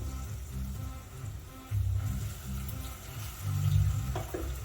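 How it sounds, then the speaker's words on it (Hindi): Battered okra finger chips frying in hot oil, a steady sizzle with low bubbling that swells louder around two seconds in and again near the end; no one speaks. "तेल गरम की हूँ, उसमें मैं गरम होते ही उसमें मैं ये ओकरा डालूंगी"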